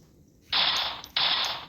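Two sharp, hissy bursts about half a second apart, synthetic shotgun blasts in a video game, each fading quickly, with no talking.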